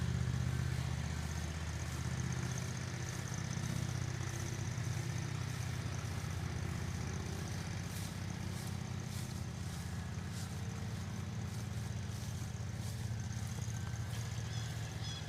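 A lawn mower engine runs steadily through soaked, overgrown grass, a constant close mechanical drone that holds at the same level throughout.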